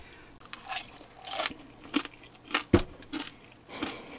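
Crunching bites of crispy fried kimchi with vegetables and meat, eaten in a truck camper: a series of sharp, close crackly crunches at irregular intervals, with no talking.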